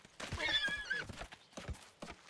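A horse whinnies in the medieval strategy game Manor Lords, a clear, fairly close neigh with a rising and falling pitch, then a few short snorts and faint hoof-like knocks.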